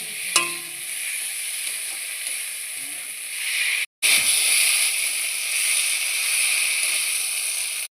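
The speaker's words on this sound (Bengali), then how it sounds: "এবার এখানে আমি দিচ্ছি ভেজে রাখা আলুগুলো। আলুটা দেওয়ার পরে আমি আলুটাকেও ভালোভাবে মশলার সাথে কষিয়ে নিচ্ছি।" Pre-fried potatoes sizzle steadily in hot oil while being stirred and sautéed with masala spices for a Bengali fish kalia, a continuous close hiss with a brief scrape near the start and a short break midway.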